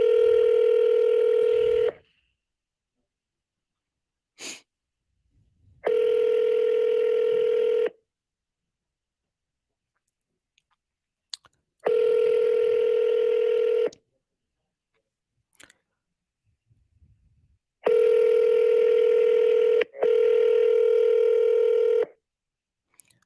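Telephone ringback on a repeat call, loud steady tones in evenly spaced two-second bursts, one a doubled ring near the end, separated by silence with faint clicks.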